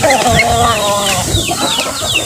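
A chicken clucks and squawks close by in quick, agitated bursts, with faint background movement.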